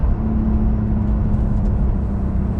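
A Porsche 992 Carrera 4S turbocharged engine drones steadily from inside the car while driving, a constant low hum with a sustained tonal note and road noise, no talking.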